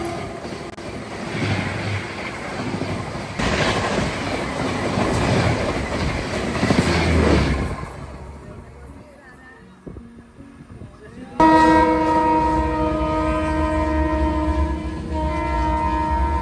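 A passenger train runs on rails on a long journey from Delhi toward Himachal: a steady rumble with rhythmic clatter, then a quieter stretch and a horn-like tonal blast near the end, with some voices in the background.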